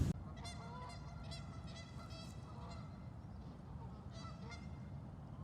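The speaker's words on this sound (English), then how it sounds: "look for geese and ducks being extra active or flying overhead. They have that very distinctive sound." Geese honking in repeated bursts in spring, some distance away, over a steady low background hum.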